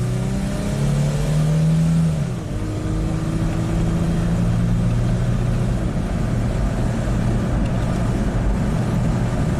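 Mitsubishi Montero 4x4 truck with an exhaust leak accelerating at full throttle, a loud, steady engine drone with rising harmonic tones that dip briefly and then climb again, continuous and close, with no talking.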